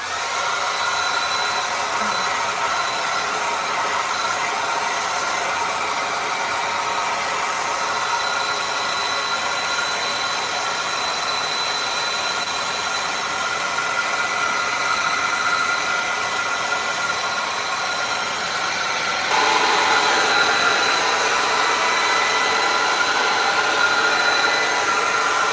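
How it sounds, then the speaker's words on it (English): A hair dryer runs steadily throughout to dry acrylic paint on a canvas, a loud continuous blowing whir with a slight shift in tone near the end and no talk. "All right, so hair dryer,"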